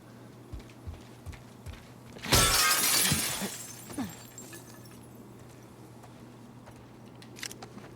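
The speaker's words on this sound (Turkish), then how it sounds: "İlla camı kırıp içeri gireceğiz." A glass window smashed to break inside in The Last of Us Part II, one loud, close shatter bursting out and trailing into tinkling shards, with soft footsteps before and after.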